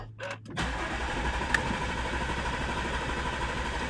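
A car engine with newly installed 034 cams turns over briefly on the starter, then catches and settles into a steady, moderately loud idle, with no speech.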